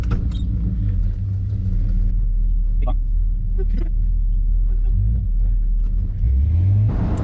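A steady, low V8 engine rumble from a 1969 Ford Torino GT 351 runs throughout, with a brief rise in revs near the end, as if the car is cruising along.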